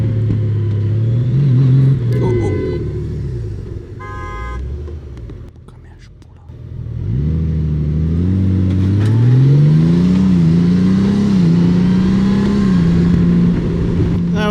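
A Honda Goldwing motorcycle rides in traffic, its engine rising and falling loudly, then dips sharply as it brakes hard to a stop with ABS engaging before revving back up; a rider speaks over the engine.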